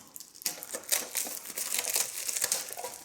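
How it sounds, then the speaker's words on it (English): Foil wrapper crinkled and peeled off a Sushi Go game tin, with close, dry crumpling and crackling bursts running through the short stretch alone. "remove the foil"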